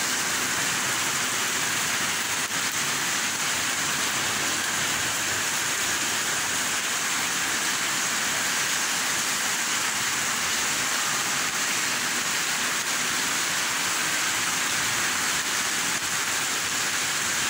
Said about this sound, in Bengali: আজ বারান্দা থেকে দেখুন প্রচুর বৃষ্টি হচ্ছে মুষলধারে